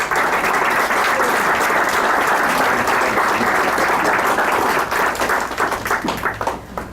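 Sustained audience applause at a Mexico City book-launch panel event, dense steady clapping from a large crowd that holds loud for several seconds and then thins out near the end.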